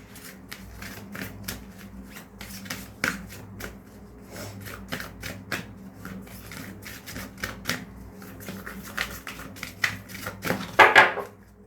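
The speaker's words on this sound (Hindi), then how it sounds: "चलिए इसमें से कुछ कार्ड लेते हैं।" Playing cards being shuffled and handled by hand, a steady run of close, crisp riffling and flicking taps that builds to a louder flurry near the end, with no talking.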